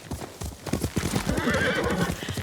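A horse's hooves clip-clop at a steady riding pace in the video game Ghost of Tsushima, rhythmic and close, with a whinny in the middle of the hoofbeats.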